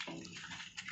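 Water is poured and splashed over a deceased body during Islamic ritual washing, a steady close splashing with small surges and no speech.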